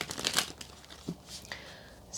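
Tarot cards are shuffled by hand, making soft papery riffles and crinkly brushes in short uneven bursts, close and fairly quiet.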